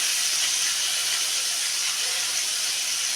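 Fish frying in an oily pan, a loud continuous bright hiss and sizzle that stays even from start to finish, close and without talk.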